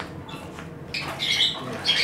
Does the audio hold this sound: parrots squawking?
yes